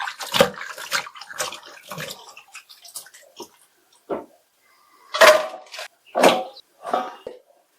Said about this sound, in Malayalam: ശരി, അപ്പൊ നമുക്ക് കഴുകിയെടുക്കാം.